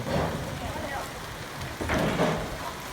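Steady rain falls at six in the morning after an overnight storm at Yang Si Surat in Thailand, where a mor lam troupe had been performing. It is a broad, even hiss throughout, with someone talking over it.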